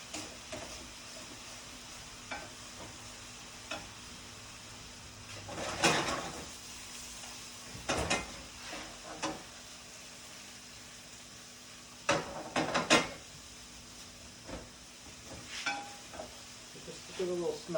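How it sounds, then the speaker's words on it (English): Rice for risotto sizzling and sautéing in a pan after the wine has cooked off, a steady quiet crackle broken by occasional scraping stirs and clanks of the spoon against the pan. "You're going to hear when that wine is evaporated and the rice begins to saute or roast a little bit."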